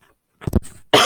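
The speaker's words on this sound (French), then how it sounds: "Si tu as besoin de tousser, de t'éclaircir la gorge" A person coughs and clears their throat in a short, close burst, a couple of rough hacks followed by a louder rasping throat clear.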